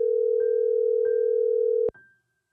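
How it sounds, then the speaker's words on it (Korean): A telephone line tone sounds steadily at close range with faint clicks, then cuts off abruptly with a click as the call connects, followed by brief quiet. "먼저 한번 전화를 연결해보겠습니다"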